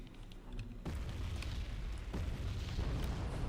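Artillery fire in a strategy video game set at Wonsan Harbor, heard as a sudden heavy boom followed by a sustained loud rumbling roar with scattered sharper blasts.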